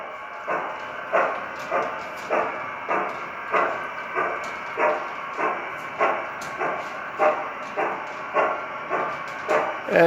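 A G scale model train, a 460 locomotive pulling five boxcars and a caboose, rolls down a 2.5% grade on the center track, its wheels clicking over rail joints in a steady, evenly spaced rhythm that stays close and moderately loud.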